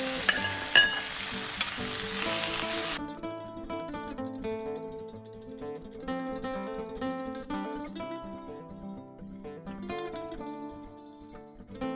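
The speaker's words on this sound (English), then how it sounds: "Now in the same pan, shallow fry onions and the rest of the vegetables." Onions and mixed vegetables shallow frying in a pan after tofu, a steady sizzle that starts as a loud burst then settles beneath louder tonal music, with no talking.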